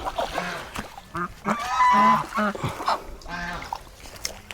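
A flock of large geese honking loudly and close by in a village, with repeated overlapping calls in bursts and brief pauses between them.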